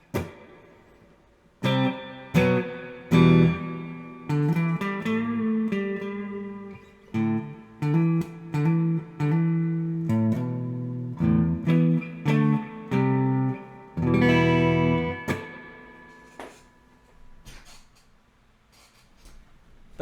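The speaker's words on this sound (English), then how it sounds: "you start getting more of that spring reverb kind of sound" Electric guitar played through an Electro Harmonix Holy Grail Neo pedal on its spring reverb setting: strummed and plucked chords and single notes, loud and close, each note trailing a splashy reverb tail that rings out alone at the end.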